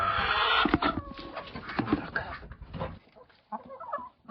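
Chickens cluck and squawk close by at evening feeding time in a busy, continuous clamour that thins out, then returns in short bursts.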